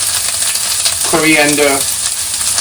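Cumin and coriander powder fry in a pan for bhindi masala (spicy okra) over a lowered flame, a loud, close, steady sizzle interrupted midway by a brief tonal whine.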